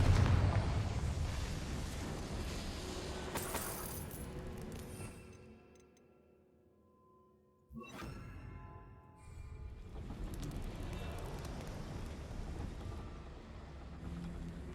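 Confringo fire spell blasts in the Hogwarts Legacy video game inside a goblin mine; a loud roaring burst that fades to near silence, then a sudden sharp explosion and a sustained rumbling crackle afterward.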